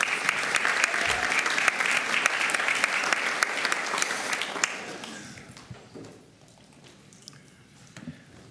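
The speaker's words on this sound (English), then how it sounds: "Let's give them a round of applause, though." An audience at a school district board meeting applauds honorees, a loud sustained burst of clapping that thins out and fades to scattered claps over several seconds.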